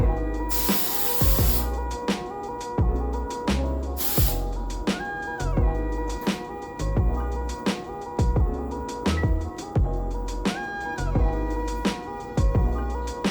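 Hairspray hisses out in two long close bursts near the start, followed by a stretch of rhythmic brushing or combing sounds.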